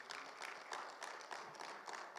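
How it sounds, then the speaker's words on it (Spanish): Church congregation at a Bible seminar applauding in praise, a moderate wash of clapping with rhythmic surges and bursts, somewhat distant in a reverberant room. "Dale ese fuerte aplauso al Señor"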